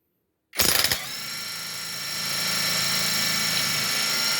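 A Suzuki Multicab's F6A engine cranks and catches after silence, with a rattly start that settles into a steady idle hum during an alternator charging test and gets slightly louder after a couple of seconds.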